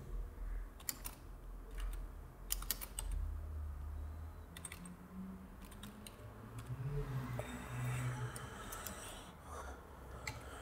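Computer keyboard typing in short bursts of clicks separated by pauses, fairly quiet and close, over a low room hum with no voices.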